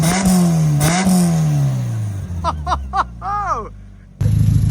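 An LS-swapped Mazda Miata engine revs loudly at close range, rising and falling in pitch with a deep rumble, then drops to a steady idle before a sharp, louder rev near the end; people talk over it.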